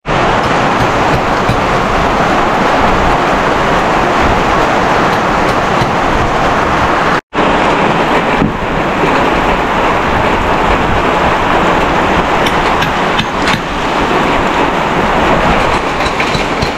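Heavy rain and cold wind from a super typhoon make a constant, loud, dense roar that barely varies, broken only by a single brief dropout partway through. No one speaks.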